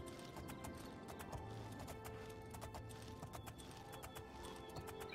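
Rapid rhythmic hoofbeats of a galloping horse in the video game Oblivion pound steadily, close and continuous, over a dense background of game ambience.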